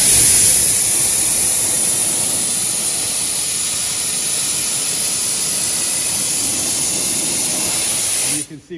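Cryo blasting on the differential casing of a Spyker C8 Spyder gives a loud, steady, high-pressure hiss with a constant jet-like roar that runs unbroken for over eight seconds before stopping.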